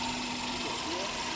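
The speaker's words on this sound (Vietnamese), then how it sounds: "nghe tiếng máy nhé, máy nổ khá là êm nhé" A 2016 Hyundai i10 with a 1.0-litre petrol engine and manual gearbox idles smoothly, a steady low hum with a faint whine running evenly throughout at close range.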